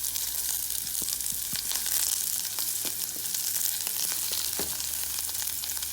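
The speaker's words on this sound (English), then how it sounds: "So I'm just gonna add my onions and garlic to some oil." Onions and garlic frying in oil: a steady, bright sizzle with scattered crackles and pops, fairly quiet and close, with no talk.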